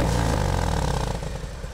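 Harley-Davidson Fat Bob 107 Softail V-twin with the throttle being pulled on the road, a loud, deep continuous engine rumble that holds steady then eases slightly, with no voices.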